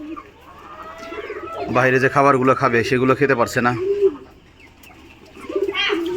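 Pigeons coo on a poultry farm in Savar, Dhaka, during the rainy season; soft repeated cooing sits under someone speaking Bengali close to the microphone.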